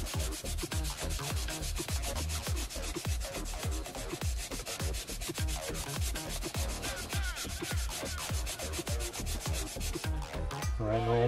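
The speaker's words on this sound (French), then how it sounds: "je vais prendre une autre face qui est neuve au grain 30 et puis je vais continuer" Rapid rhythmic strokes of 30-grit abrasive over a rusty metal blade, a harsh rasping scrub repeated steadily and up close for the whole span, with no talking.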